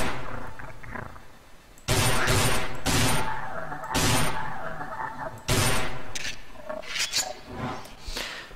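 Rapid bursts of gunfire in the Half-Life mod Heart of Evil, aimed at mutated scorpion-like creatures; loud repeated volleys separated by short gaps, with no talk.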